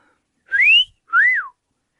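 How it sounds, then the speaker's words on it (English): A woman lets out a bawdy two-note wolf whistle, a rising glide and then a rise-and-fall, clear and close with silence around it. "she gives a bawdy wolf whistle"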